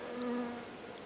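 Honeybees buzz steadily at a beehive on a farm, a close, continuous insect drone with a slight swell in the middle and no voices.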